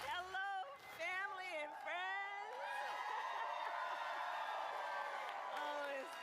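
A crowd at a Kamala Harris rally in Raleigh, North Carolina cheers and whoops loudly and continuously, with individual shouting voices rising above a steady roar.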